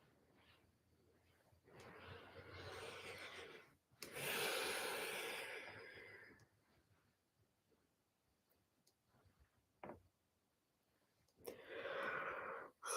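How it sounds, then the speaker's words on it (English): A person yawns several times: long, breathy, drawn-out exhalations rising and fading, one stronger yawn in the middle, with quiet pauses and faint clicks between them, close to the listener. "I yawned to alchemize"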